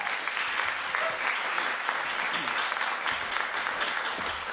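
Sustained audience applause at a live folk music concert for a fiddler, steady and dense throughout, with a few scattered voices mixed in.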